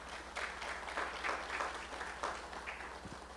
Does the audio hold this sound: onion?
no